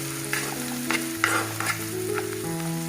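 Crushed garlic frying in hot oil for a Kerala-style fish curry, a bright continuous sizzle with repeated spatula scrapes roughly every half second, close by, with a steady background hum and no talking.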